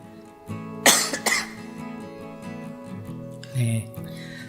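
Several sharp coughs from an older man, one strong burst followed by quick smaller ones, then a final cough a few seconds later, close and loud with no talking.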